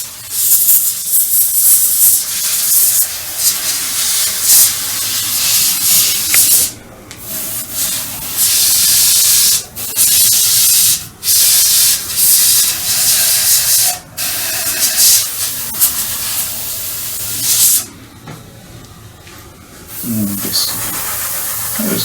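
Airbrush spraying paint onto a StuG III Ausf G scale model, a soft continuous hiss in bursts broken by short pauses, with a person talking over it.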